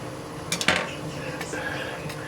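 A metal whisk is lifted from among pots and pans in a home kitchen while cooking chicken paprikash, giving a few sharp clanks and clinks close by, then quieter handling over a low background hum.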